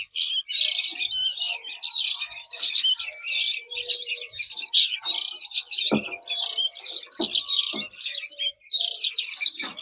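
Young songbirds, including bulbuls, chirp continuously in a bird shop, with dense, repeated high chirps from several birds close by and occasional faint knocks and background sounds.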